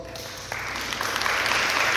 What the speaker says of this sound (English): That is worth celebrating. Can I get applause?